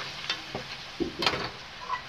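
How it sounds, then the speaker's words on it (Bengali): Chicken curry meat is stirred and sautéed in a pan, a soft sizzle running beneath scattered scrapes and clicks of the spoon, close and moderately loud. "নাড়াচাড়া করে জল দিচ্ছি"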